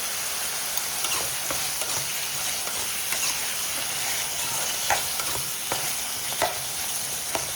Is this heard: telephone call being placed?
no